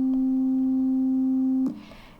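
A pure sine tone at middle C, 261 Hz, holds perfectly steady and loud for about one and a half seconds, then stops abruptly with a small click, leaving faint room noise.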